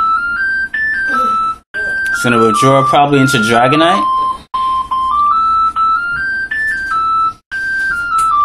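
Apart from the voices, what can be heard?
house phone ringing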